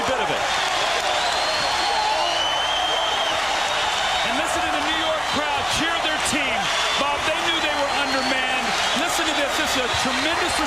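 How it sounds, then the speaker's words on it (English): New York Knicks home crowd at Madison Square Garden cheering during the 1999 NBA Finals against the San Antonio Spurs, a loud sustained roar with clapping and whistles, while a commentator talks over it throughout. "listen to the New York crowd cheer"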